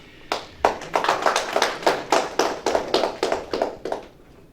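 A small audience at a school board meeting claps to welcome a guest, a former superintendent, with distinct, fairly regular claps in a close, room-like space that taper off near the end.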